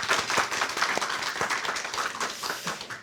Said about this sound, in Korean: 하나님께 영광의 박수 함께 올려드립니다